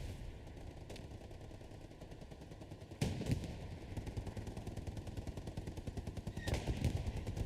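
Rapid automatic machine-gun fire from a tank's hull gunner in Hell Let Loose, a sustained rattling burst that intensifies partway through with louder impacts, surrounded by constant battlefield noise.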